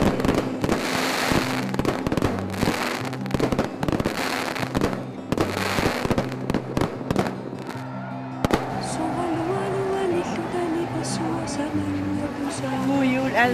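Fireworks at an outdoor Christmas celebration in Greenland with about 2,000 people and young skiers carrying torches: repeated loud crackling bursts and bangs, with a steady hum and a voice under the display.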